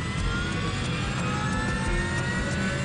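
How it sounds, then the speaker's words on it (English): Inside an airliner cockpit, jet engines run up with a dense, continuous roar and steady whine, loud and unbroken throughout, with no talk over it. "he records the sound of the engines from inside the cockpit"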